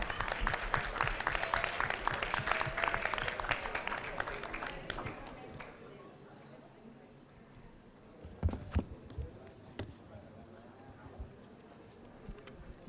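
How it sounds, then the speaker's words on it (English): Audience applause rises at a hackathon event, dense clapping for several seconds that thins out into a few scattered claps with murmuring voices underneath. "Let's give another round of applause."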